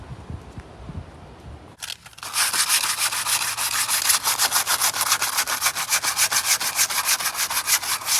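After a short quiet start, rhythmic back-and-forth sanding of a Nissan 300ZX's side skirts begins, a loud, close, abrasive rasp repeating steadily to the end.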